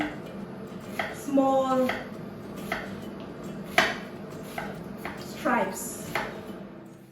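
Onions chopped on a board by hand, with a handful of sharp, close knife strikes spaced irregularly amid kitchen clatter, while a person talks throughout.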